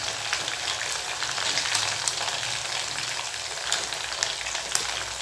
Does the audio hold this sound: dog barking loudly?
no